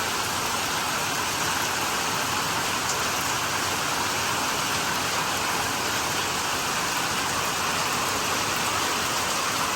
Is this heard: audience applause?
no